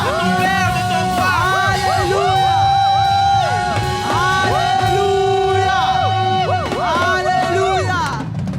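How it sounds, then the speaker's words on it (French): A church congregation at a Pentecost service shouts and cries out in praise, many loud overlapping voices whooping and calling together, sustained throughout. "pousse des cris à la gloire de ton Père, de ton Roi"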